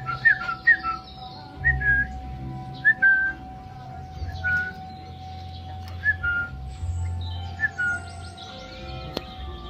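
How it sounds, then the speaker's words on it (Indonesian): A sooty-headed bulbul sings repeated short, bright whistled phrases at a steady pace, fairly close, in a home garden, over a low background hum and faint outdoor rumble. "Kutilang, burung kutilang."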